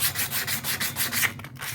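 Sandpaper rubbed by hand over the iron body of a metal grinding and polishing machine under restoration, a loud, close, rasping scrape in quick back-and-forth strokes, about eight in under two seconds, with no talking.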